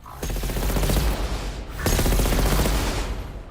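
Rapid automatic gunfire from a gun in Horizon Forbidden West rattles out in two long, loud, close bursts with a brief gap between them.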